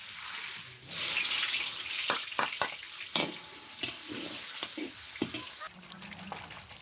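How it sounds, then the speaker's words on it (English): Butter sizzles and fries in a preheated pan at a winter village cookout in Azerbaijan, a steady close hiss with sharp scraping and stirring clicks breaking through. "Watch as the butter glides effortlessly over the preheated pan"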